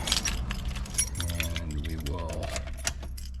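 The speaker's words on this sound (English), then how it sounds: "and we'll grab the keys." Car keys jangle and clink close by, continuous metallic rattling for a few seconds while a car head unit is being installed, with a voice talking alongside.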